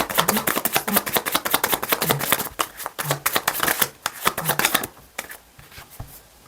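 Tarot cards being shuffled and drawn up close, a quick run of crisp riffling slaps and flicks in uneven bursts, thinning into a few softer card sounds near the end without speech.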